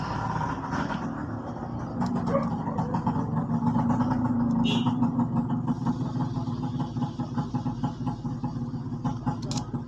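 Motorcycles and cars pass on a road right beside a house, making a steady, fairly close engine rumble that swells and eases without a break for about ten seconds.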